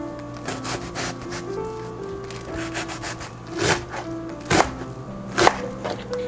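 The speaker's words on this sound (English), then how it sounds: "chop your onions into small pieces" Knife chopping onions into small pieces on a cutting board, a series of sharp percussive knocks with a few louder strikes, set against steady kitchen hum and faint background sound.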